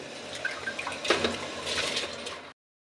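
Cinnamon, cloves, black pepper and other whole spices tipped into a pot of water for vegetable biryani give soft splashes and rattling patters up close for a couple of seconds, then stop abruptly into silence.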